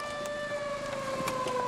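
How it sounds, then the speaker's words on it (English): A wailing evacuation siren sounds continuously ahead of an ammonium nitrate explosion test, steady tones holding loud and alone with no voices over it. "there's the siren"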